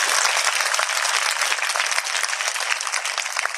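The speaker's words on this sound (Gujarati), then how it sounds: "તાળીઓની થોડી અપેક્ષા રાખું છું." Female high-school students clap at a teacher's retirement ceremony: loud, dense, continuous applause from a roomful of hands, steady throughout with no voices on top.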